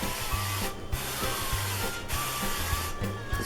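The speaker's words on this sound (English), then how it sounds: "So we're going to grease our pan." Cooking spray hisses onto a cookie sheet in a few short bursts, heard over a steady low background hum.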